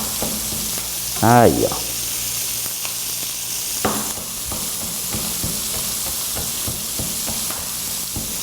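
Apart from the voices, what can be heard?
onion, garlic and chili pepper sautéing in a pan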